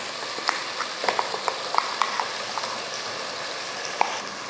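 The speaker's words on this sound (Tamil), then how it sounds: "மசால் போட்டு இது போல் 1 நிமிஷம் இல்லைன்னா 2 நிமிஷத்துக்கு இந்த போல் வதக்கி விட்டுக்கோங்க" Ground Chettinad masala sautés in a pan for chicken kulambu, a soft steady sizzle with small irregular pops and stirring clicks, close and fairly quiet, with no voices.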